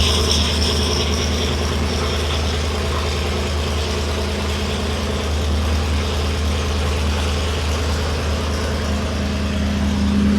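A supercharged flathead engine runs steadily on a dyno, a loud, continuous mechanical drone with whirring and rattling that holds at a constant level throughout, with no voices over it.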